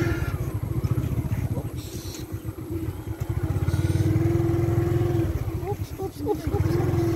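A borrowed motorcycle putters and pulses along a road, ridden unsteadily by an inexperienced rider, while nearby voices talk and exclaim over the engine.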